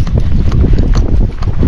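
Gaited horse moving out along a trail, hooves giving a close, continuous rhythmic clip-clop over a short stretch.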